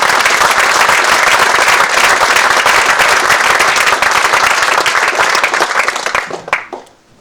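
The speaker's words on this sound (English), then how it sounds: "big round of applause for Chris." An audience applauds after a talk with loud, sustained, dense clapping that tapers off and stops near the end.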